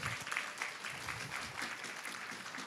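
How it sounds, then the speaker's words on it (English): An audience applauds at the closing ceremony of an English teaching congress in Costa Rica, giving a short burst of dense, steady clapping from a room full of people. "So a round of applause for us."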